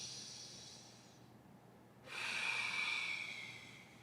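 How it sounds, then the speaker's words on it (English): Deep, slow breaths during a breathing exercise: a long airy exhale, a brief pause, then a stronger hissing inhale, close and fairly quiet with no talk. "So I'm going to inhale."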